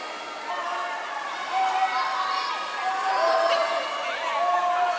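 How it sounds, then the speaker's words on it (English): A crowd in a swimming gallery at a regional championship cheers continuously, with shrill whistles and calls rising and falling beneath a commentator's voice. "There are certain teams, they get an extra loud cheer, and that's okay."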